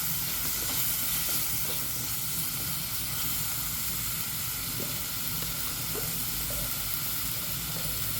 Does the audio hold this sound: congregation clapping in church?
no